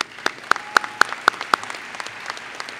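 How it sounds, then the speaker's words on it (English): Steady crowd applause at the Gateway Technical College 2016 commencement ceremony, a loud, dense wash of many hands with a few sharper nearby claps standing out rhythmically near the start. "Let's all give them a big round of applause."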